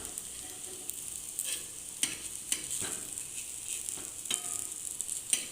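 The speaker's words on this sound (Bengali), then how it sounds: "এইগুলো আমি সাদা তেলে না ভেজে সর্ষের তেলেই ভাজলাম" Poppy seed fritters frying in mustard oil with a steady, faint sizzle, broken by occasional stirring clicks and scrapes at irregular intervals.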